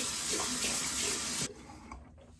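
Tap water runs into a sink as someone rinses off after a wet shave, a steady close splashing that stops abruptly partway through, leaving a quieter trickle.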